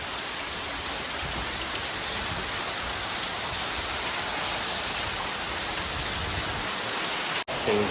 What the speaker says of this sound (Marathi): खूप जोरात आता पावसाने आगमन केलेलं आहे